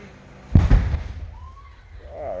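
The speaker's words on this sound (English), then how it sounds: "It's fireworks going off." Fireworks burst in a quick cluster of sharp pops and thuds over about half a second, fairly close, then fade into quiet ambience with faint voices nearby.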